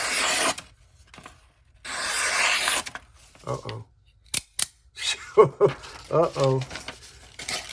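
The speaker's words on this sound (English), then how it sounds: "Let's cut some goddamn paper." Paper being sliced by an OTF knife, bursts of crisp rasping cuts and short sharp snaps at close range, with brief spoken exclamations mixed in near the end.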